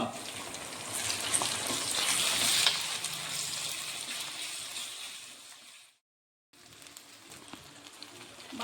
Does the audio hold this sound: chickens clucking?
no